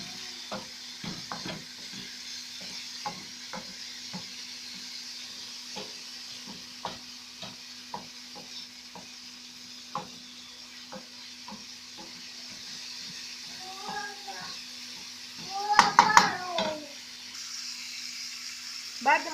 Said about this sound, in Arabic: هنقلب كده، البصل بدأ ياخد لون ويتكرمل